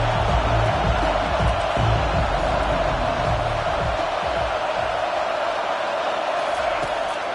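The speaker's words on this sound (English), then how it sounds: "Decibels rising as the crowd gets behind this defense on 3rd down." A stadium crowd at an American football game roars loudly and steadily on a third down, a dense sustained wall of cheering that eases only slightly toward the end.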